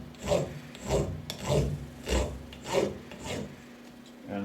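A hand file rasps a heavy parting burr off a small metal machined part clamped in a vise, about six steady rhythmic strokes, close and moderately loud, with no talk.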